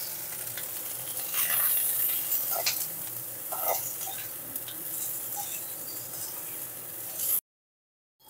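Cauliflower fries with turmeric in oil, a close, steady sizzle with frequent crackles and stirring scrapes for about seven seconds before it cuts off into silence.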